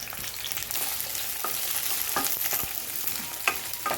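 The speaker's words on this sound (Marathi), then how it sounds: "तेल गरम झालेलं आहे आपण याच्यामध्ये आता भेंडी टाकूया भेंडी आपल्याला तेलात फ्राय करून घ्यायची आहे" Fresh okra fries in hot oil with a steady crackling sizzle, broken by short scrapes and taps of a spoon stirring close by, and no talk.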